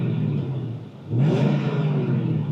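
A 1989 Ford Saleen Mustang engine idles low, then revs sharply to about 3,000 RPM and holds a higher, rumbling whine, close by.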